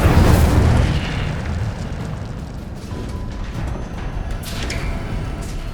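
An Incendio fire spell erupts in Hogwarts Legacy with a loud booming burst at the start, then a sustained roaring whoosh of flames that slowly fades.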